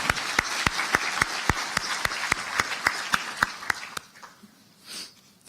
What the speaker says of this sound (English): let's give them all a round of applause now